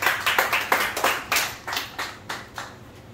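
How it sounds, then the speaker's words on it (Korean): An audience claps for a pastor at a church-related gathering, a sparse, uneven patter of individual hand claps from a small group, moderately close, with no talking over it. "이은호 목사님 큰 박수 부탁드리겠습니다."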